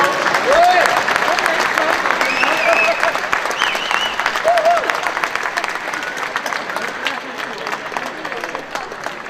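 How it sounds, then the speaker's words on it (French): Audience applause at a classic car club prize ceremony at the Epoqu'Auto 2019 show: a dense, steady crowd clapping that fills the room, with a few whistles and voices mixed in, easing off slightly toward the end. "Bravo, on peut les applaudir."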